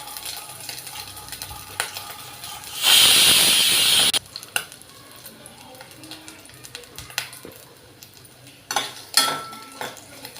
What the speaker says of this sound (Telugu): కొబ్బరి ముక్కలు బాగా వేగాలి తాలింపులో.